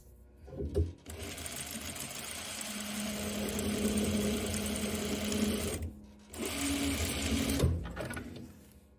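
Sewing machine stitching fabric for a tie top, running in two steady bursts of rapid mechanical whirring with a brief pause between, loud and close.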